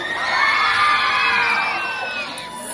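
Pageant audience at a Niyog Festival gay beauty contest cheers and shouts in a loud, sustained crowd roar with high whoops, swelling early and easing slightly toward the end.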